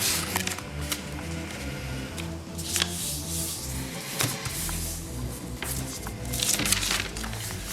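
Paper for a LEGO film set's forest-and-house background is folded and cut, giving a continuous close run of crinkling, rustling and sharp snipping sounds with brief louder scrapes.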